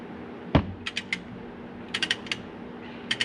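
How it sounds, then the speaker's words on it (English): Large two-foot torque wrench tightening a bolt to 80 foot-pounds on a Can-Am Maverick clutch, giving several sharp ratcheting clicks in short bursts after a single heavy knock, close and clear with no talk. "then you take your gigantic torque wrench, because my small one don't go down to 80"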